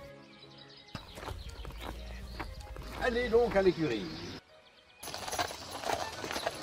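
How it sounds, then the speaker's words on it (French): Horses led toward a stable at a French country house, hooves clip-clopping at a steady walk under conversation, with a louder burst of hoof and movement noise midway and a few bird chirps in the background. "veuillez mener les chevaux à l'écurie."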